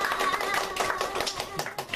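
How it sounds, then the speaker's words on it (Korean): A church congregation applauds, a dense continuous patter of many hands clapping close and loud, fading into scattered claps near the end with voices mixed in. "박수 한번 쳐주십시오."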